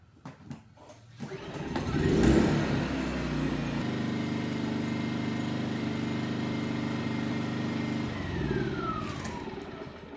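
A small inverter generator engine is pull-started, sputters, then settles into a steady, moderate, quiet running hum that continues evenly to the end.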